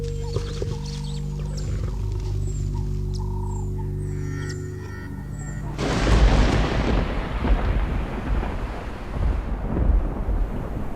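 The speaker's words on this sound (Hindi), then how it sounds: "तभी इन पहाड़ियों और घास वाले मैदानों में एक जानी पहचानी गरज सुनाई देती है।" Thunder rolls over hills and grassland at the start of the rainy season. A tonal animal-like call comes first, then a deep broad rumble swells in the second half and lingers loud and distant.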